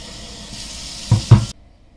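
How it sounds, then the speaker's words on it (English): Very hot water runs from a kitchen tap, a soft steady hiss with two brief louder gushes before it cuts off abruptly. "So I'm running really hot water"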